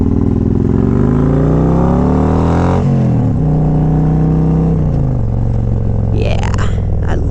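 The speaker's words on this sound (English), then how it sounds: "This bike sounds good, doesn't it?" A 2021 Harley-Davidson Road King with a Stage 2 upgrade revs while being ridden, its loud engine note rising and falling through gear changes, close and steady throughout.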